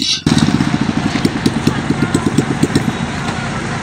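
A motorcycle engine idles with a steady, rapid thumping pulse close by as the bike is parked at a rural village market in Jharkhand, with no talk over it.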